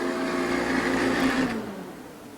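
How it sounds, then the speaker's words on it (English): A RIDGID SF2500 SuperFreeze pipe freezing unit hums steadily with a mechanical whir, then winds down as it is switched off, the drone fading over the final second. "I'm going to go ahead and shut the SuperFreeze unit off"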